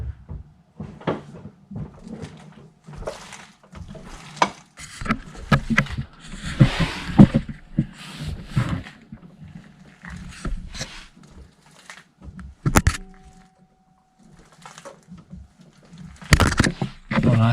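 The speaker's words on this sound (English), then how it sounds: "Just turn the steering wheel back and forth." Jeep steering wheel turned back and forth while its track bar is checked, giving irregular knocks, clunks and rattling bursts of varying loudness up close, with a brief tonal hum near the end and no talk.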